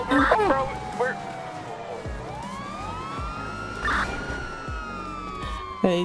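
Police car siren in the GTA 5 video game, a wailing tone sweeping up and down steadily across the clip, with short voice fragments and game sounds around it.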